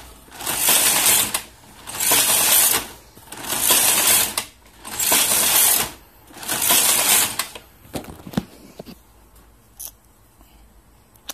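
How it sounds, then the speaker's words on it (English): A Toyota 950 knitting machine knits Fair Isle, its carriage sweeping across the needle bed in five loud, even passes about a second and a half each, followed by a few quieter clicks and clacks. "Using the same card, I'm knitting Fair Isle."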